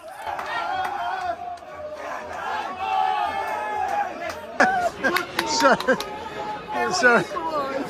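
Packed Irish pub crowd erupting after a football equaliser, a loud roar of chanting voices giving way to excited shouts, yells and clapping, close and dense throughout.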